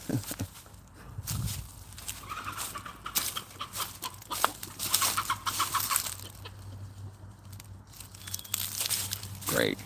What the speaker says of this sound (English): Great, chickens got out.